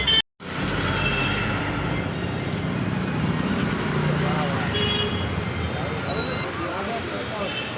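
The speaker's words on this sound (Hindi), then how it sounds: "दिखाते हैं यहाँ का ट्रैफिक" Busy city road traffic outside a hospital near a metro bridge, a continuous wash of engines and road noise with occasional horn toots, steady and fairly distant, with a voice talking over it.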